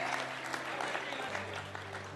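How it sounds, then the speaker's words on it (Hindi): An audience at a comedy show claps together, a moderate, fairly distant patter of hands with faint voices and a low hum beneath it. "जरा पीछे तक के लोग एक बार ताली बजा करके मुझे आदेशित करें"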